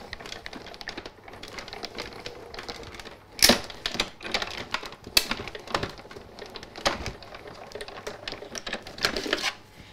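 Craft die and card being cranked through a die-cutting machine, a run of rattling mechanical clicks and clacks with a few sharper knocks, close and fairly loud in a quiet room.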